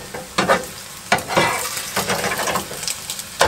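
Eggs frying on high heat in a pan inside a van, a continuous crackling sizzle with occasional sharper pops and stirring scrapes, heard close with no talking.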